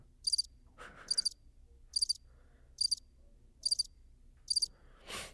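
Sharp, regular triple-pulsed cricket chirps repeat steadily at an even pace, loud and close, with a brief whoosh near the end.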